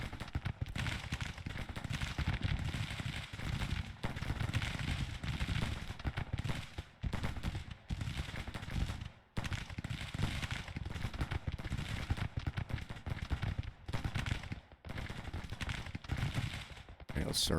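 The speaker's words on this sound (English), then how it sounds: "these artillery pieces are firing" Artillery pieces firing in the Grand Tactician Confederate 1864 campaign: a dense, continuous barrage of crackling shots and booms, fairly loud and sustained throughout, with brief gaps between volleys.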